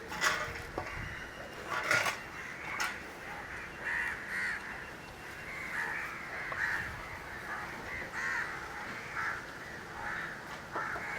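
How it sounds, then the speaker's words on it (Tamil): Crows caw over a dry-fish drying yard at Kurunagar, making repeated harsh calls at near and middle distance alongside faint clinks and other background noise. "இதாடி காக்கா வந்து சரியான தொல்லை கொடுத்துட்ருக்கு."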